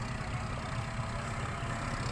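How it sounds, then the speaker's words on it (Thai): A tractor engine pushes to free a stuck vehicle, giving a steady, loud, low diesel rumble that holds without a break and has no talk over it. "รถไถมาดันเนี่ย"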